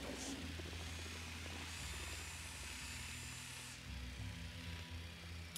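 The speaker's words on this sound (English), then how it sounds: "Deploying drone." A drone deploying in the video game Ghost Recon Wildlands, a steady whirring rotor buzz that holds at a constant level throughout, with no voices over it.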